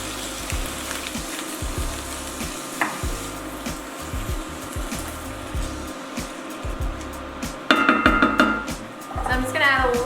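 Peppers and onions frying in a pan for vegan dollar-store enchiladas and crunchwraps give a low, steady sizzle, with occasional utensil clinks and a brighter clatter near the end, and a voice speaking at times.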